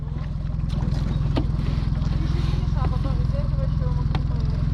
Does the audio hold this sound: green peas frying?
no